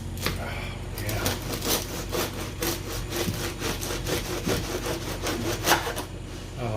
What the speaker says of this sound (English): slicing through that crust